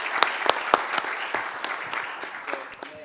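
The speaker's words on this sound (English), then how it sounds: "let's give them another round of applause" Sustained audience applause at a public commission meeting, dense and steady clapping from many hands with a few sharper claps standing out near the start, continuing evenly for the full stretch without talk.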